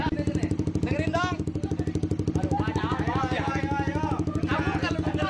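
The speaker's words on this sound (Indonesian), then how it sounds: "Coba nyalain knalpotnya." Motorcycle engine running through an aftermarket exhaust, a steady rapid throbbing idle held throughout at close range, with people talking over it.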